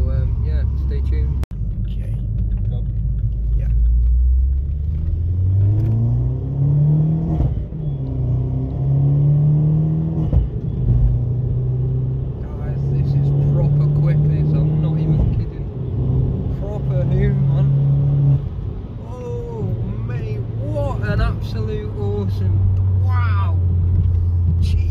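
A Vauxhall Corsa D VXR with a 1.6 turbo engine accelerates hard through the gears, its loud engine drone climbing in pitch, dropping at each shift, then climbing again, with a steady rumble throughout.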